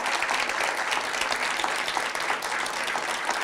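Guests at the 2017 DCSAA Hall of Fame induction ceremony give the inaugural class of inductees a steady round of clapping, a thick wash of many hands that holds at an even level.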